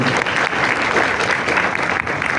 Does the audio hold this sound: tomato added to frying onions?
no